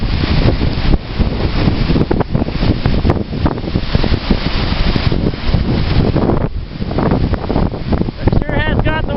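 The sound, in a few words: strong wind and waves rolling in at Kincardine North Pier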